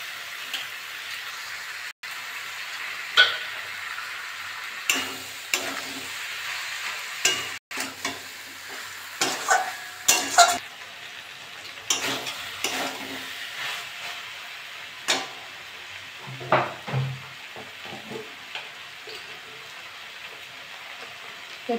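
Small chuno fish fry and are stirred in a pan for a dry chochori with data stems, giving a steady close sizzle broken by repeated scraping stirs, with no talk.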